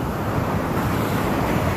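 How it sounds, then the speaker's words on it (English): Rough waves breaking steadily on a sandy lake shore near a river mouth, a continuous loud roar of surf mixed with wind buffeting the microphone. "Oh, the waves coming."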